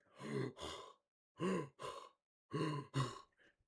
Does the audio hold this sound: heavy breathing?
yes